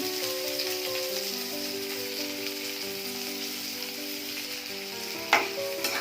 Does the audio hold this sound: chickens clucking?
no